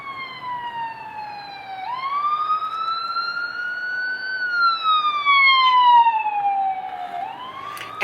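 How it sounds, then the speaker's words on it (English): An ambulance siren wails past on a busy road near a hospital, loud and close, its tone sweeping slowly up and down in long cycles over faint traffic noise, with no talking. "there's an ambulance right there"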